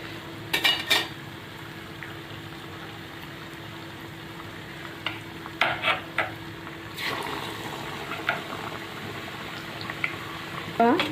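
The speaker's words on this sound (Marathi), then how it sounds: "वडा जेव्हा आपण टाकू तेव्हा आपल्याला गॅस फास्ट ठेवायचा आहे, कारण बेसन पसरणार नाही म्हणून" Vada, gram-flour-coated potato fritters, deep-frying in hot oil over a high flame: a steady low sizzle runs throughout, and sharp clinks of utensils against the pan come and go. No one talks.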